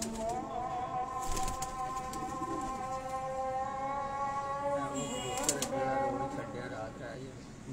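Pigeons on a rooftop loft in Kasur coo steadily in layered tones, with a brief flutter of wings near the start and someone talking over them throughout.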